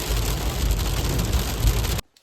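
Hail pelts down during an autumn mountain hike, a dense, loud, rushing patter of ice striking surfaces that cuts off abruptly.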